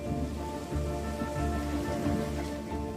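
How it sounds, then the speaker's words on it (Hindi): Heavy, steady rain pours down continuously, with a dense wash of drops and a faint tonal hum underneath. "जबरदस्त बारिश से कोई अछूता नहीं रहता"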